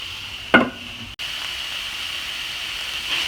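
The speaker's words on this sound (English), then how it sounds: "I'm going to grab the bacon and add the bacon back into it" Bacon stirred back into browned ground beef in a pan, with a steady sizzling hiss and a sharp scrape of a utensil against the pan, close and continuous.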